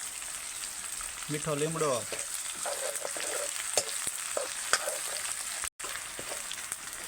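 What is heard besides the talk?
peanut bhaji curry frying in oil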